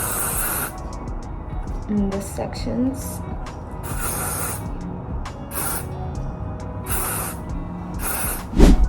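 Several short bursts of KMS texturizing hairspray hiss close up onto hair, spaced a second or two apart, with a voice speaking briefly between them.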